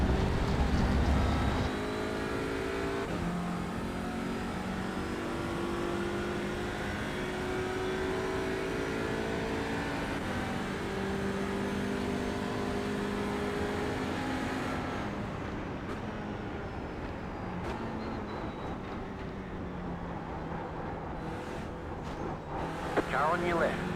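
A race car engine in a racing video game drones steadily at high revs with shifting harmonic tones, followed by a lower, rougher stretch near the end, while a voice talks over it throughout.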